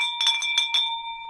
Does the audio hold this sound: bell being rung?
yes